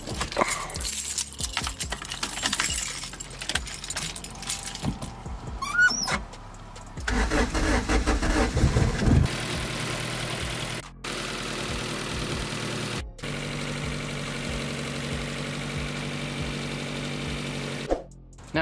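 A boosted Honda B20 engine suspected of a cracked ring land cranks and starts after some clicking and handling noises, then settles into a steady, loud idle that runs for several seconds with brief cutouts.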